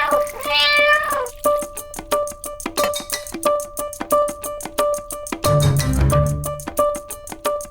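A cat meows in a comedy scene about a cat refusing milk, with short cries heard over a loud, steady musical backdrop of repeated tones and a brief low burst partway through.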